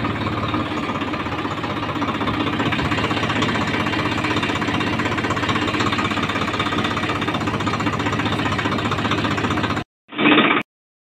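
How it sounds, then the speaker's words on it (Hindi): A Swaraj 855 tractor engine runs loud and steady with a dense, knocking diesel clatter while pulling a laser leveller and three cultivators in a sugarcane field, then cuts off abruptly near the end before a brief final burst. "ये देखो, ट्रैक्टर आगे चल रहा"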